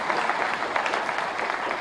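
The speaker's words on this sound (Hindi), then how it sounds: "किरण बाबा जी ने सबसे पहले ताली बजाई" Audience applause at a Rozgar Mela event in Shimla, a dense burst of clapping from a crowd that holds steady and loud for the whole moment.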